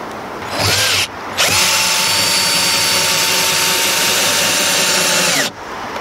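A power screwdriver backs out a screw on the plates of a Squib keelboat under refit. A short whirring burst is followed by a long, steady, close whine with no talking.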